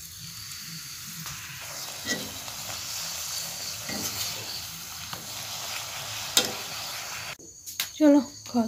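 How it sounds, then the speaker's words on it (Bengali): Rolled puri fry in hot oil, a continuous soft crackling sizzle with occasional spatula taps, ending in brief louder clatter and a short voice near the close. "আর একটু পুরি ভাজবো, বেলে নিয়েছি, তেল গরম বসিয়ে দিলাম"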